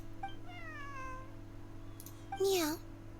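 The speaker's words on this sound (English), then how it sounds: "Is that Lynette with the little kitty?" Cat meowing in a video game, a small kitty beside a game character: two short meows under a steady hum, then a louder rising-falling meow near the end with a brief rustle.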